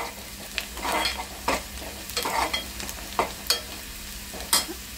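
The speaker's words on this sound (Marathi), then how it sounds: "त्यामुळे कांदा थोडासा लालसर करून भाजायचा" Onion frying in a pan until reddish for a dry val bean dish, with a steady sizzle broken by irregular scraping stir strokes, close and moderately loud, no voices.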